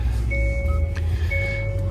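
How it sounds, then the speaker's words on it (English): Reversing beeps from a Hyundai Santa Cruz Limited pickup are heard as steady electronic tones with a short break, over the low hum of the idling engine, close by and with no speech. "let's say if we go in reverse,"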